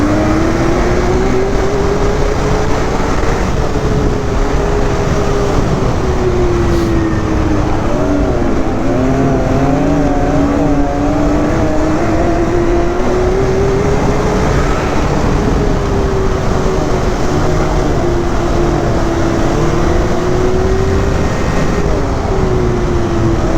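A Ski-Doo 900 ACE Turbo snowmobile engine drones loud and close for the whole stretch, its pitch rising and falling in long smooth waves as it pulls hard under steady wind rush, with no talk over it.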